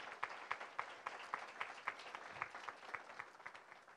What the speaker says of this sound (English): Give yourself a round of applause for just showing up.